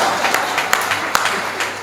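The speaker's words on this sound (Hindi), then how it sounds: "ताली बजाते रहेंगे तो ठीक ठाक है" Audience applause at a Hindi hasya kavi sammelan, a comic poetry gathering: steady, dense clapping from a crowd with a few sharper claps standing out, continuing throughout at moderate loudness.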